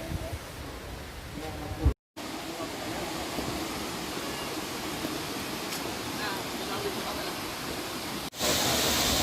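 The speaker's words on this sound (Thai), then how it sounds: "ก็จะเจอน้ำตกอีกแล้วนะฮะ ไหลผ่านมาเลย" Waterfall flowing past a temple and a chedi standing in the water in Mae Kampong village, a steady broadband rush of falling water that stays loud and continuous throughout, broken by a brief dropout.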